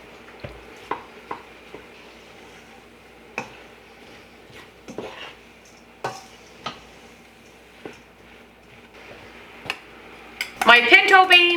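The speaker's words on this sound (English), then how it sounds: "and then stir in all of my ground beef" Utensil scraping and clinking in a pot while ground beef is stirred in for taco soup, scattered taps repeating every second or so over a soft background hum, ending in a louder burst of clattering.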